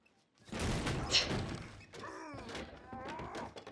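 A door slams in a film fight scene: a loud, heavy thud with a clattering crash, followed by fainter rattling and settling noises.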